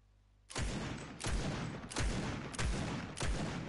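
Video game gunfire in five loud, evenly spaced bursts, each a sharp crack followed by a rumbling tail, starting after a brief quiet lead-in.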